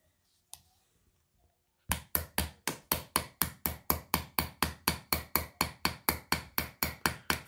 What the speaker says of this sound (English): So let's start doing the hammer and chisel on this rock.